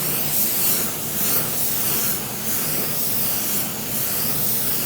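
Spray gun powered by a small air compressor lays paint onto a car hood, a continuous airy hiss that swells and eases in gentle waves with each pass, close and steady with no voices.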